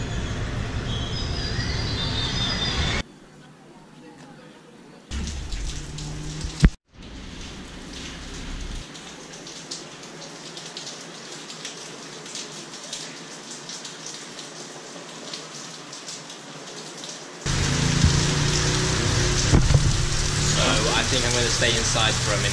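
Rain falls at night beside a lake near San Ignacio, Belize, a steady broadband hiss that keeps going through the whole stretch, swelling louder and denser toward the end, with a few brief bumps and gaps along the way.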